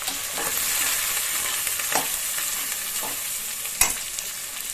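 Curry leaves, coriander and onion frying for egg rice, a continuous close sizzle broken by several scraping stirs of a spoon against the pan, no talking.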